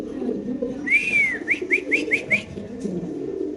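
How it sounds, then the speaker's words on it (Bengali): A male pigeon, a Spanish or racer breed kept by a breeder, gives a near, clear cooing call: one long rising-falling note followed by five short, evenly spaced coos, with soft low background rumble. "দেখেন মাশাআল্লাহ নরের ডাক দেখেন ভাই"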